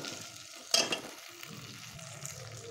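Arhar dal frying in a pan, a soft continuous sizzle with one sharp clink of a spoon against the pan early on, otherwise quiet and steady.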